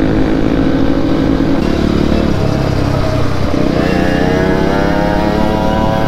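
A motorcycle with a badly worn rear tire rides on a road. Its engine is loud and close, a rough continuous drone that rises and falls as the rider works the throttle.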